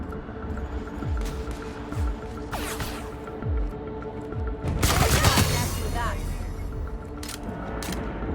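Gunfire in a sci-fi shooter game erupts as a dense volley of shots and booms, loudest in a burst midway, over a constant hum and game soundtrack, with voices calling out nearby.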